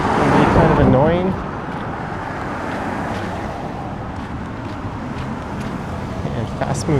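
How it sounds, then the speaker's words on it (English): Fast-moving cars on a major street in Toronto's Lawrence Park neighbourhood in spring: a loud nearby vehicle whooshes past at the start, then fades into a steady traffic rumble that continues to the end. "fast-moving cars are pretty loud, and you would have that pretty much 24/7"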